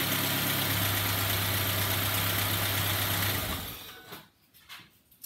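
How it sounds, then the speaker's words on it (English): An old Ford Focus engine idles with a steady mechanical hum and a rapid ticking for about three and a half seconds, then shuts off, leaving faint clicks and rustles. "It's a very, very, very, very a ticking noise that developed in the car over the last few years."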